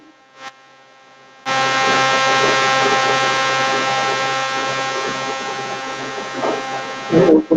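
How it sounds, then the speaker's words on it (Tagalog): A loud, steady electric fan motor hum starts abruptly after a quiet moment and drones on for several seconds before cutting off with a clatter. "Maybe because of the electric fan."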